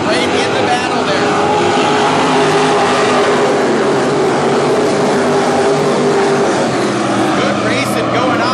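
Race cars roaring around the track at North Central Speedway, a dense continuous engine drone from many cars at once, loud and unbroken across the whole stretch.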